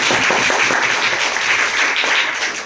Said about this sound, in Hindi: शानदार प्रयास के लिए एक बार जोरदार ताली बजाओ